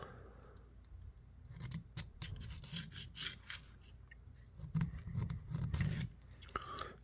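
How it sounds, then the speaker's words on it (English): Small scraping strokes work down inside the channels of an old orange-handled pocket knife during cleaning, a quiet, close, gritty rasp that comes in short bursts and brief pauses. "Doesn't hurt to lightly scrape down in there."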